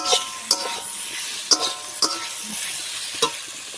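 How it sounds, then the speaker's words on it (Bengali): Small village fish are lightly fried with ginger and garlic in a pan. An even oily sizzle runs throughout, punctuated by four or five sharp spatula clinks against the metal at irregular intervals, close up. "দিয়ে হালকা করে ভেজে নেব।"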